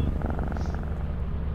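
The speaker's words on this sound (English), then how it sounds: "Too noisy, give your cat a pet to quiet it down for a bit." A cat purrs in Lethal Company, a close, soft, steady rumbling purr for a brief moment with no talk over it.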